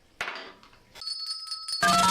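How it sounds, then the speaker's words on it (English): A bright bell rings in a radio studio with a sustained metallic tone, followed by a louder burst of ringing at the end, heard alone without talk. "Now, where's my bell?"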